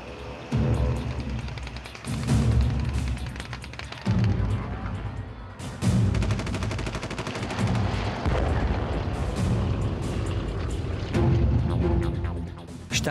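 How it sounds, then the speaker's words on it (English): Fighter-bomber air attack on a column in the narrow El Hafe Pass, Tunisia, in April 1943: loud continuous bursts of machine-gun fire and heavy booming blasts roll on for over ten seconds, with brief lulls between volleys. "Fighter bombers caught up with him."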